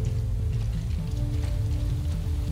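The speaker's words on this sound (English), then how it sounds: "That is a very beautiful waterfall." A waterfall in the video game Death Stranding produces a steady, soft rushing hiss of falling water with a low, constant rumble beneath it, even and unbroken throughout.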